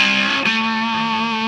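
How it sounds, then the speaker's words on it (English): Electric guitar played on the bridge pickup through a Catalinbread RAH pedal with the bass maxed, a single sustained, thick and creamy distorted chord ringing out with a slight pick attack near the start, no talking. "if you have the bass maxed and you're playing on the bridge, you get a nice kind of creamy tone"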